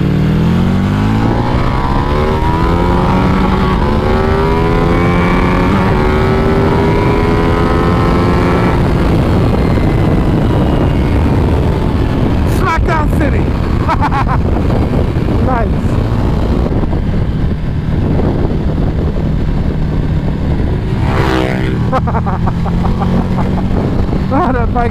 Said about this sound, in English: Bike sounds great.